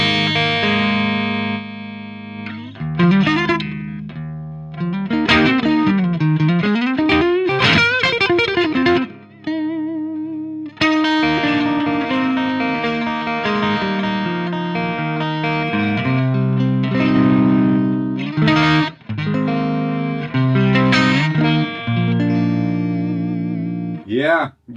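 Electric guitar through a modified Marshall 1959 Plexi amp with the bright cap engaged, a loud, driven tone with sparkle. Riffs, bends and sustained chords carry on almost without a break.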